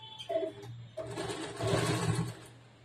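A sewing machine stitches a 40-inch chest blouse from the reverse side, running in a steady mechanical whir with a short burst, a pause, then a longer continuous run at close range.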